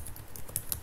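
Quick soft clicking of keys on a computer keyboard while coding, a brief rapid run of keystrokes, faint and close.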